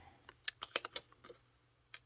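Scissors snipping small paper planner stickers, a handful of quick, faint, close crisp clicks in a short irregular cluster, with one more snip after a pause.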